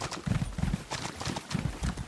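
Horse hooves canter in The Elder Scrolls Online, quick clip-clop beats in repeating three-beat bursts, close and moderately loud with no talk.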